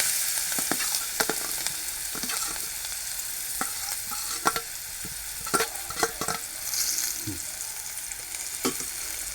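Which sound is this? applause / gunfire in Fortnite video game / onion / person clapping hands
onion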